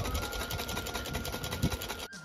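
A sewing machine running at home in a village house, a fast steady mechanical clatter with even rhythm, close and moderately loud, stopping abruptly near the end.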